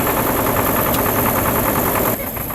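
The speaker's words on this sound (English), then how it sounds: "It was built to be used as a farm tractor." Antique four-cylinder farm tractor engine running at a show, a steady loud chugging idle with a rhythmic mechanical beat, close by, dropping slightly in level near the end.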